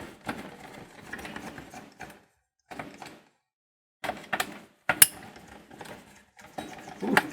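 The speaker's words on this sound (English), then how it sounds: "You can hear that nice crisp snap when they break loose for the first time in probably 20 years" Old, tightly torqued screws on a Sony stereo CD player crack loose under a screwdriver, giving several sharp close clicks and snaps separated by brief pauses and small metallic rattles.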